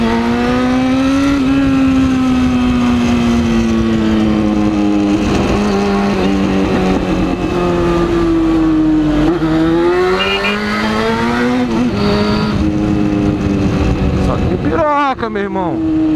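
Yamaha FZ6N motorcycle engine running steadily, a loud continuous harmonic drone that rises and falls slightly with throttle over the whole stretch, with a voice talking over it.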